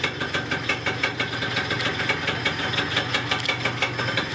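A Yamaha Neo's 50 scooter engine idles close by after a basic service, a steady fast putter with an even pulsing rhythm and no talk over it.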